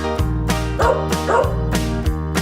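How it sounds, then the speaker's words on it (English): A dog barks and yips repeatedly in quick succession, close and loud, with a musical bed underneath. "the dogs go as they chase and tease the cats"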